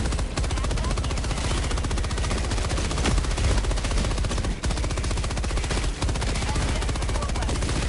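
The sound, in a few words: sentry turret firing in video game Helldivers 2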